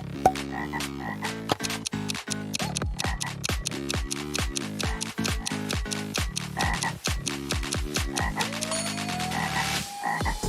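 A frog croaks in a fast, steady run of sharp clicking rasps, dozens of pulses close together and loud, isolated as a sound effect with a rising squeak near the end.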